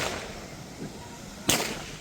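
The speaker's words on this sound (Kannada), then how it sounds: "ಇವಾಗ ಪಟಾಕಿ ಹಚ್ತಾರೆ" A firecracker goes off at Kaup beach with a single sharp bang partway through. Before it there is quieter outdoor background.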